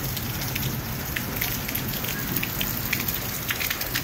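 Steady rain pours down onto surfaces nearby, a dense, even hiss of countless drops with scattered closer splatters, continuing without a break and with no voices.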